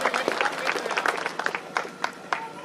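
Crowd applause at an anniversary ceremony of an agricultural cooperative society, with dense, steady clapping throughout, a few sharper claps standing out, fairly loud and continuous for a couple of seconds.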